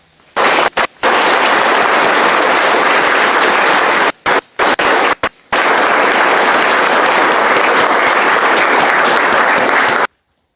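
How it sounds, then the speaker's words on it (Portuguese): Loud, dense applause from the congregation at a Pentecost Mass, sustained for about ten seconds with a few brief dropouts near the start and middle before stopping abruptly. "Uma salva de palmas."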